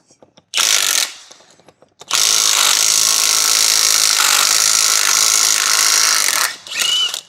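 An impact socket wrench hammering at a front wheel bearing nut on a 2000 Dodge Ram 2500 Cummins, a loud close burst, a brief pause, then a long sustained rattling hammer run ending with a short final burst.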